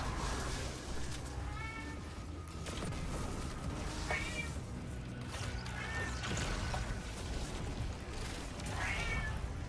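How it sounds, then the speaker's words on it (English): A cat meowing several times at spaced intervals, faint and somewhat distant, over a low steady background hum. "Hello, kitty. I hear you."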